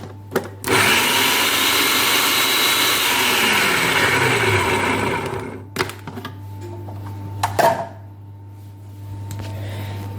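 A food processor spins its blades through boudin blanc stuffing, a loud steady whirring for about five seconds that winds down, then clattering of the bowl and lid over a constant mains hum.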